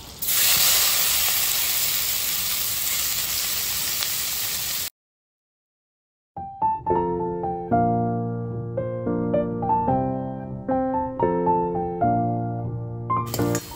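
Onion fries in melted butter for pav bhaji with a loud, steady, close hiss and sizzle for about five seconds. A short silence follows, then light instrumental music.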